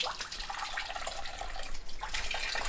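Hands are washed under cold spring water running from a village fountain in Pompia, Heraklion, Crete. A continuous close splashing and gushing flow fills the whole stretch without pause.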